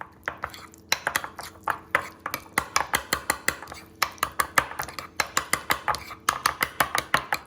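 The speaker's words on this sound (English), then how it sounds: "Once you've chopped it up, you want to gather it, mix it into your butter, just like that" Chopped garlic is worked into butter in a bowl, producing a quick series of sharp scraping and tapping clicks against the bowl in a fairly steady, near rhythm, moderately quiet.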